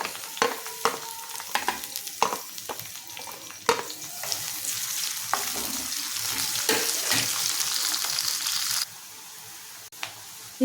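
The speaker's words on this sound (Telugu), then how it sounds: "కరివేపాకు, ఉల్లిపాయలు వేసేస్తున్నానండి." Onions and curry leaves fry in hot oil, a faint, close sizzle with frequent sharp crackles and pops and occasional stirring scrapes in the pan.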